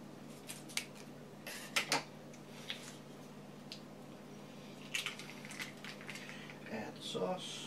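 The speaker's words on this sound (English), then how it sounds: "Grab my scissors." Scissors snip through food while a burger-style yakisoba is put together, a handful of crisp separate cuts spread out, close and fairly quiet over a low background.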